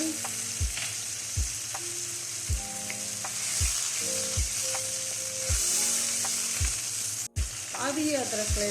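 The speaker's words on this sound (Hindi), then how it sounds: "और अब इसमें डालना है अदरक लहसुन" Blended onion paste with ginger and garlic sizzles loudly in a pan for kofta curry, with a spoon stirring and scraping in a regular rhythm over the constant frying hiss.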